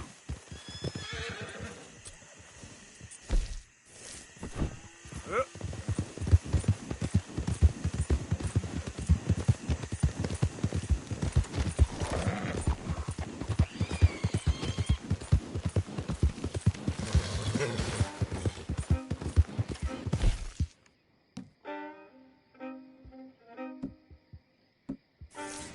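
Horse being ridden in Red Dead Redemption 2, hooves clip-clopping in a steady rapid rhythm for most of the stretch, with whinnies mixed in, then slowing to sparse hoof clops near the end.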